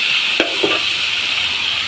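Luffa gourd stir-fried with pork gives a steady sizzling hiss throughout, broken by two short clanks of a utensil against the pan.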